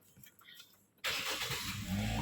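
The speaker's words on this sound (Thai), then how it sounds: "เสียงเครื่องยนต์เนี่ย นิ่ม ๆ เลยนะ" After a quiet moment, a Toyota Altis 1.8S car engine starts abruptly by push-button and settles into a steady, smooth idle close by.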